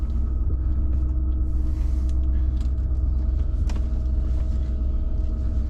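Land Rover Discovery 2 on its first drive, a steady low engine rumble and road drone from inside the cabin with occasional faint clicks and rattles, no talking.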